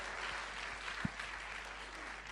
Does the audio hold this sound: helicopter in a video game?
no